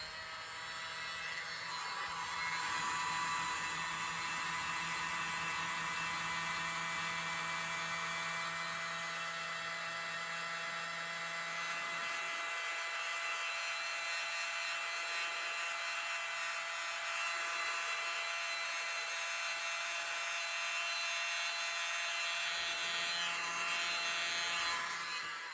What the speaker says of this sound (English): My mini blower.